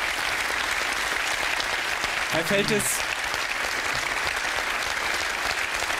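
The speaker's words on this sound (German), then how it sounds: "Kleinen Applaus für unseren Herrn der Zahlen hier." Studio audience applause on a German sports talk show about football violence, a steady wash of clapping filling the whole stretch while a host's voice speaks briefly over it.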